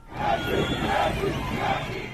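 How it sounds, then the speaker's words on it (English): Protesters at street demonstrations cheer and shout for soldiers riding in a pickup, a dense crowd roar that swells and falls steadily throughout with no single voice standing out. "These protesters show more faith in the military, cheering the soldiers and jumping on their pickup"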